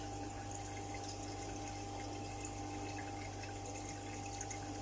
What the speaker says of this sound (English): Watching me doing water changes